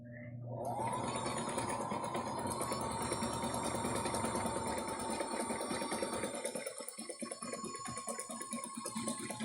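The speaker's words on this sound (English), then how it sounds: "So again, I'm going to back stitch to make a little knot." Sewing machine back stitching the seam of a bag made from a T-shirt, a loud, steady whirring motor run that starts abruptly and continues close up without talk.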